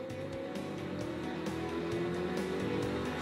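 Race cars in a 2014 sports car race at Daytona run on the track, their engines a steady droning whine that rises slightly in pitch, heard at moderate distance with a commentator talking over them.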